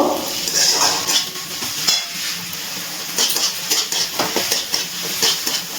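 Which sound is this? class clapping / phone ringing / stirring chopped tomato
stirring chopped tomato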